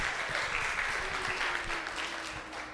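A small group claps steadily for a participant in a church hymn class, a soft, even patter of hands with no voices over it.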